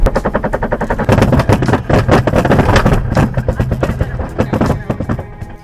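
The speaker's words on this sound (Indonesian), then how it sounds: "Yang disertai adanya suara keras dari bagian blok mesin." Loud, close noise from a car's engine block with a failing CVT transmission, a rapid knocking pulse and harsh mechanical clatter, steady for several seconds.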